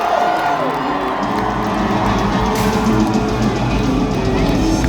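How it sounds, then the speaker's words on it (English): Loud crowd cheering and whooping at a knights jousting match between Canadian and American competitors, a dense continuous roar of voices with shouts rising throughout. "And the crowd goes wild."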